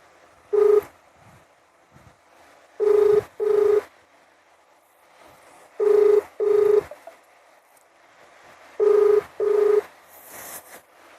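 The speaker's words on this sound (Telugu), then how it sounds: "ఆ నెంబర్కి మనం ఫోన్ చేద్దాం" A phone rings in paired tones, four double rings spaced evenly apart with quiet gaps between, alone and clear.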